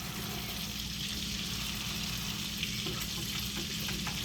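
A burger frying and being basted with butter in a pan, a loud continuous crackling sizzle with a few faint clinks, no voices.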